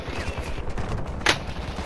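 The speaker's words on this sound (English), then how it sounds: "I'm hearing fucking gunshots in this." Gunfire in a battle royale video game: muffled shots and bursts over a rumbling background, with one sharper crack standing out, and no voices at that moment.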